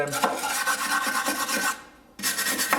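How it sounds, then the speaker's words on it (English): Loose rust is scrubbed by hand with a brush from the chassis of a Land Rover Defender, a steady rasping scrape in quick close strokes that stops briefly and then resumes. "Just brush the loose stuff off the chassis"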